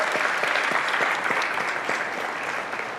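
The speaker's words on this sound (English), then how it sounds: "Give them a round of applause once again" Dense, continuous applause from an audience cheering student innovators at an evening innovation showcase celebration, loud and even for the whole stretch.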